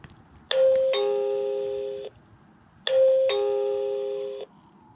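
A Meco Eleverde HD smart J5 wired intercom doorbell chimes twice, each a clear two-tone ding-dong whose second note rings on for over a second, spaced evenly and alone, with no talk.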